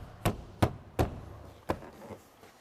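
Four crisp plastic snaps, evenly spaced and close by, as Chevy Trax door panel clips pop into place, followed by a fainter knock.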